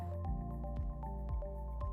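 Dirty water drains through the open drain valve of a Jeio Tech ST-G lab autoclave sterilizer, giving soft, evenly spaced drips and gurgles over a steady low hum, faint and close.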